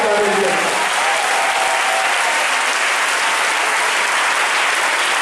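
Sustained, dense applause from a large congregation at a church convention, steady and loud for several seconds with faint voices mixed in.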